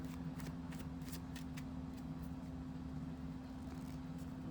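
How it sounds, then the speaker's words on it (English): Several quick riffling bursts from a cosmic parenting card deck being shuffled on a table, faint and close, over a low steady hum with no talking. "Definitely like to shuffle."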